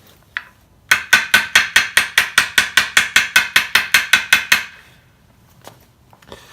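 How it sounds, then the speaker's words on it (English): A hammer peening a hammered finish pattern into metal, struck about eighteen times in an even, quick rhythm, each blow a sharp ringing clank, close and loud with no talking. "So we're just going to be, as we hammer, turning the hammer a bit"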